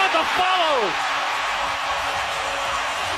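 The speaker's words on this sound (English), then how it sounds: "Crowd going crazy" A basketball arena crowd at the NBA Finals roars loudly and steadily after a slam dunk, a dense wall of cheering that holds throughout, with a brief rising whistle or whoop near the start.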